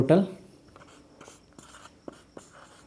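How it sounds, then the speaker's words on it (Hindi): Pen or marker strokes on a board as a total is written, brief scratchy squeaks in a sparse irregular rhythm, close and quiet, following a short burst of talk at the start. "तो पहले मैं टोटल यहाँ पे लिखता हूँ"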